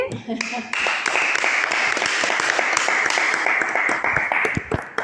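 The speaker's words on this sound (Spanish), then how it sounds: "Yo desde aquí le pido un aplauso fuerte." Audience applause for an interview guest, a loud, sustained round of clapping from a crowd, with voices over it at the start.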